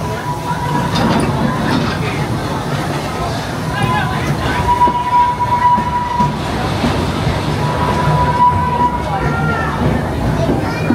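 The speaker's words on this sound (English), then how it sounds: "The Tommy G is a real working steam locomotive." A propane-fired steam locomotive pulls a train at Six Flags St. Louis, heard as a loud, steady rolling rumble with rail clatter and a recurring whistle-like tone throughout, with a voice speaking over it.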